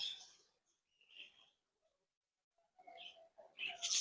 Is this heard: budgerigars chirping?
yes